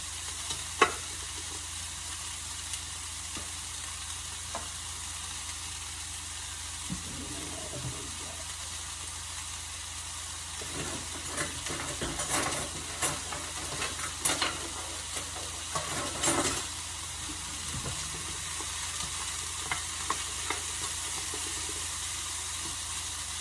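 Food is stirred in a non-stick pan over high heat with a plastic flipper, a soft steady sizzle under light scraping and tapping, quiet and close, no talk.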